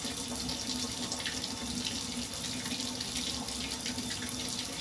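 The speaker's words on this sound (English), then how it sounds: "he doesn't even care that the water is running now" Water pours steadily from a tap into a tub, a constant hiss and splash at close range with no talking.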